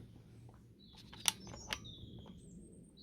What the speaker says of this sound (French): On entend le bruit des oiseaux.